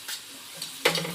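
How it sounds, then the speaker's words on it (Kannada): Onions frying in a pan for paratha filling, a soft sizzle with brief stirring scrapes, then a louder burst of hissing near the end. "ನೋಡಿದ್ರಲ್ಲ ಎಲ್ಲ ಜರ್ಜರನೇ ಫ್ರೈ ಮಾಡ್ಕೊಳತ್ತೀನಿ"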